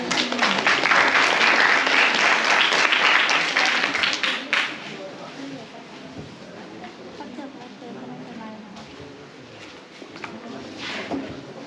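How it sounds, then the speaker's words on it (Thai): Participants at a science and environment camp burst into loud, close clapping for about four seconds, then the applause cuts off and gives way to quieter background chatter and movement. "เอาปรบมือให้เพื่อนๆ พี่ๆหน่อย"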